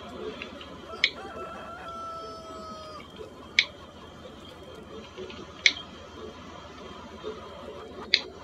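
Farmyard chickens and a rooster making scattered calls and squawks, with four sharp, loud clucks spaced a couple of seconds apart over a low outdoor background hum.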